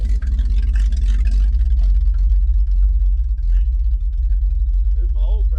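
A 1968 Pontiac ambulance engine idles steadily after a cold start, a loud low rumble running throughout with faint voices in the background.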